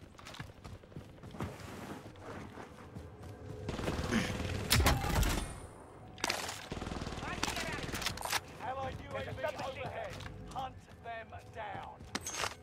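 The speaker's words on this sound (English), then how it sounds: "I heard the gunfire though" Gunfire in a multiplayer shooter video game, with bursts of shots and loud impacts amid creaks, mechanical clatter and game effects, under ongoing in-game talk.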